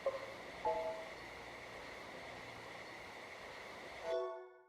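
A train ride in the A-Train railway simulation game rumbles with a steady, moderately faint rolling noise, with a short horn-like tone near the start, before the sound cuts off abruptly.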